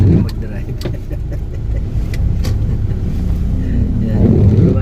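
Car being driven in heavy rain, a steady low engine and road rumble from inside the cabin, moderately loud, with a few soft knocks and clicks and people talking now and then.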